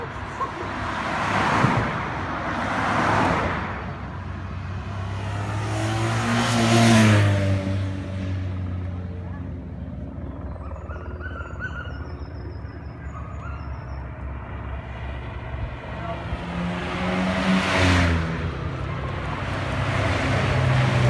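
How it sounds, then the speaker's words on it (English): Cars pass on a road ahead of a Tour de Yorkshire cycling stage, three separate swells rising and fading as vehicles go by, moderately near, with quieter road noise between them. "Cyclists and cars coming before the bikers got to us."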